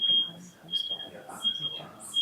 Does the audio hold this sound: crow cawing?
no